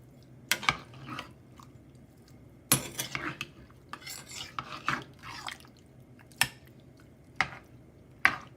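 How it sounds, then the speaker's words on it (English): A spoon stirs roux in a pot for Southern smothered chicken, scraping the metal in irregular sharp strokes, some quick and bunched, others spaced apart, close and fairly quiet. "I'm going to stir this up really well"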